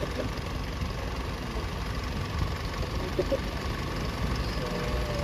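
A newly replaced Isuzu 4JG1 engine runs smoothly, a steady even idle hum at moderate level with no surges or knocks.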